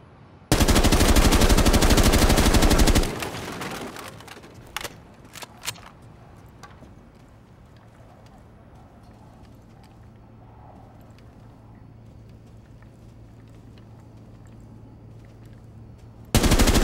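Automatic weapon fire in the video game Rainbow Six Siege rips out as a loud, sustained burst lasting a few seconds, followed by a handful of scattered single shots, then quiet ambience before another burst begins at the end.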